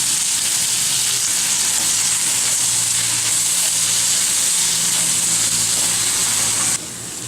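Potato masala ingredients frying in a pan, with a loud, continuous close-up sizzle of hot oil that holds steady throughout and drops slightly at the very end.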